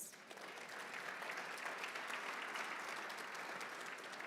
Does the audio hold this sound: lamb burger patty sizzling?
no